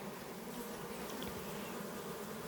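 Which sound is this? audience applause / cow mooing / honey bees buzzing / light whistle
honey bees buzzing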